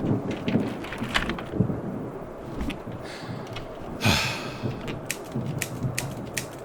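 A stormy Halloween night brings steady rain hiss with scattered patters and a louder burst of rumbling thunder partway through, all moderately near and with no talk.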